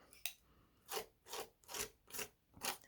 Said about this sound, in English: I'm going to try to scrape some of the excess off